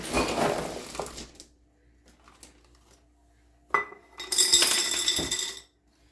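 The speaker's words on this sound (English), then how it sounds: "we're going to go ahead and put 1 cup of cranberries per jar" Cranberries poured into freshly washed, still-dripping glass jars, one cup per jar: two bursts of rattling, clinking berries against glass separated by a quiet pause, close and fairly loud, with no talking.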